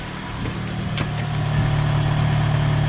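Toyota RAV4 engine idling after an ignition coil repair, a steady, even mid-pitched hum close by with no misfire stumbles, running alone without talk.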